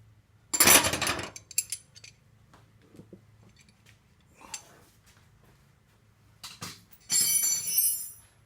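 Metal hand tools and loose nuts and bolts clatter and clink as they are shifted across a workbench beside a 1947 GMC truck, with a burst of rattling early on, scattered small clinks, then another sustained clatter near the end.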